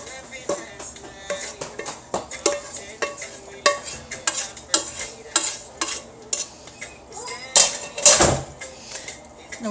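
Thick baked bean mixture is scraped and spooned into a baking dish, giving a series of wet plops, spoon clinks and scrapes against the dish at an uneven pace, close by.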